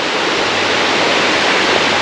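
Waterfall at a hidden jungle spot in Bali, a loud, steady broadband roar of falling water filling the air continuously, close by and with no talking over it.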